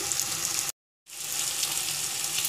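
Chicken tikka pieces fry in a pan on a low flame, giving a steady, close sizzle that cuts out briefly for a moment before resuming just as strong.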